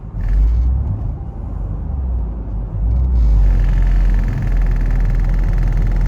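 A 2012-2019 VW Beetle with newly replaced engine and transmission mounts and subframe bushings drones with a steady low rumble and heavy vibration at low RPM under light throttle, the hum swelling slightly partway through.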